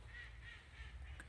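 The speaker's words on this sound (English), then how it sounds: "Ducks quacking." Several ducks quacking nearby on a snowy campus of the University of Cheltenham in December, in a short, steady series of honking calls.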